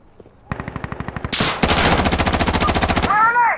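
An MP5 submachine gun fires in Insurgency Sandstorm, starting with quieter rapid rounds, then a loud, sustained automatic burst with fast, even rhythm before a brief metallic ring at the end.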